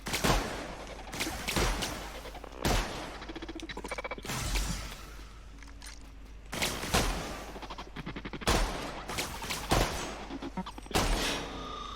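Shotgun blasts in the video game The Outer Worlds, loud sharp booms fired in irregular bursts with short gaps, some shots close together, amid combat noises and no talking.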